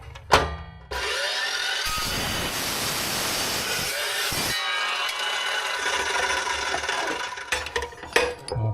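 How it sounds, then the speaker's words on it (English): A clamped saw cuts through a bent piece of stock in one loud, steady grinding pass of several seconds, with clanks from handling the material before and after. "I can't get it clamped in the saw correctly, but let's give that a shot right there"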